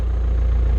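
A John Deere skid steer loader's engine idles steadily at close range, a continuous low rumble with no talk over it, heard on a farm while cleaning up straw.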